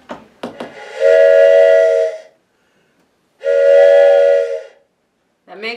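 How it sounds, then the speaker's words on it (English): A long black wooden train whistle gives two sustained, chord-like blasts up close, separated by a short silence, with brief handling noises at the start and end. "here's the official long black train whistle."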